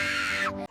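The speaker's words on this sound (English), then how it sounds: "it's a device that screams bloody murder if someone moves your bike" A cheap €20 bicycle alarm screaming, a loud, piercing electronic shriek held steady, then its pitch sweeps downward before it cuts off abruptly.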